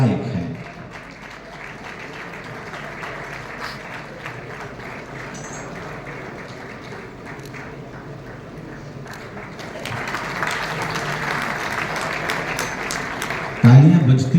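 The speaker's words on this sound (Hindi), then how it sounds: "तालियां बजती रहे तो कितना अच्छा लगता है।" Applause from the audience at the opening of a film festival, a steady, fairly distant wash of clapping that swells louder in the last few seconds.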